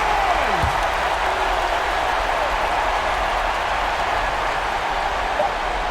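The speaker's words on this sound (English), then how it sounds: "So the home crowd happy here as they get the victory" Home crowd at a basketball game, Gilas Pilipinas against Gran Canaria, roaring and cheering in a steady, dense wash of noise that holds without a break from start to finish.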